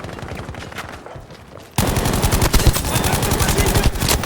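Gunfire in Battlefield V, first quieter then a sudden loud burst of rapid automatic fire that continues steadily, with a voice speaking over the shooting.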